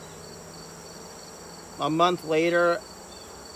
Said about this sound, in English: I think a bee just got inside my gloves.